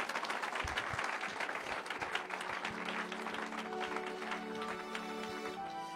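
A church congregation claps and cheers to acclaim the Lord, with dense, sustained applause filling the room and a sustained tone rising beneath it toward the end.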